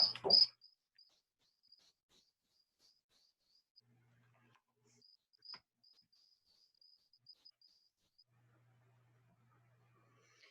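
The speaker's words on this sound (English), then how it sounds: "I just happen to have over here on my other computer the cricket noise" A recorded cricket: faint, high, thin chirping repeats sporadically over near silence, after a sharp brief sound at the start.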